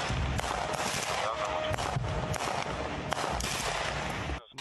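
Gunfire and artillery fire at the front near Bakhmut, by Andriivka, where trenches are shelled by artillery and mortars. Dense crackling shots and heavy booms come in repeated bursts over continuous rumble.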